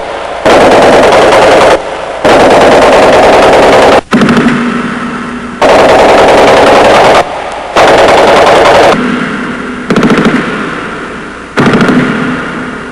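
Bursts of machine gun fire in 1930s New York bootlegger gang violence, several loud sustained rattling volleys separated by short pauses, close and dominant.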